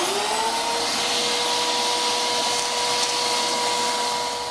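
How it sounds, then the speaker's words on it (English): Vacuum cleaner running steadily with its hose sucking up a penny, a loud continuous whine with a constant high tone and no talk over it. "If I turn this vacuum back on, I'm going to put the hose with a little bit of airflow,"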